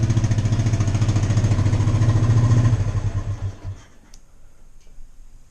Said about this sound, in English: that's my 1975 Honda XL350 K1